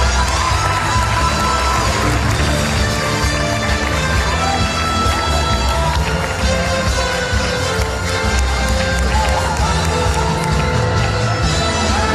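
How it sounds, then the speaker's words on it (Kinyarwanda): A live comedy show audience applauds and cheers in a dense, continuous roar of claps and voices that fills the whole stretch without a break. "Amashyi ari hano."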